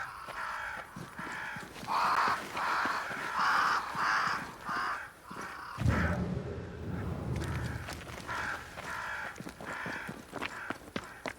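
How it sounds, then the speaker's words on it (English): Crows caw repeatedly in the video game Banishers: Ghosts of New Eden, a flock near a great tree in the swamp, with a steady rhythm of loud harsh calls, a brief heavy thud midway, then more cawing and soft footsteps. "Crows."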